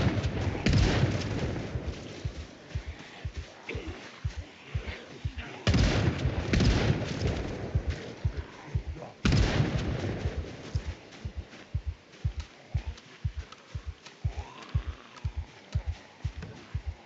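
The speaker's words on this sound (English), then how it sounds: "So let's start shooting." Repeated gunfire in a survival video game, sharp shots popping at a steady pace with a few heavier booming bursts, loud and close throughout with no talk.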